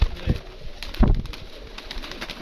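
Pigeons coo in a loft kept by fanciers who fly them, with two or three soft, low coos close by over faint background noise.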